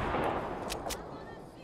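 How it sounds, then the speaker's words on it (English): In Fortnite, a shotgun goes off somewhere distant, two sharp, faint blasts rising briefly over a rumbling in-game background. "They're shotgunning somewhere."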